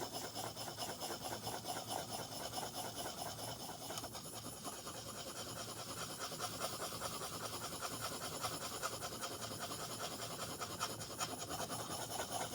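A skew chisel is rubbed back and forth on an inexpensive oil stone, producing a steady, close rasping scrape in quick repeated strokes that continue without pause and without talk.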